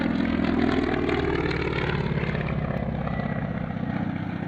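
CAC Wirraway propeller aircraft flying at the Warbirds Over Scone airshow, a loud, steady droning engine roar with a faint pulsing rhythm, close and continuous, with no talk.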